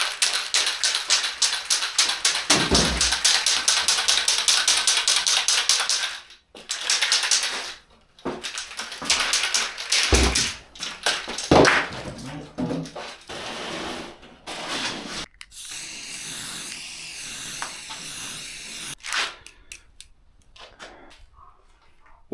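An aerosol spray paint can is worked over a skateboard deck, with rapid rattling pulses and then repeated bursts of close, loud hissing broken by short pauses, with no talking.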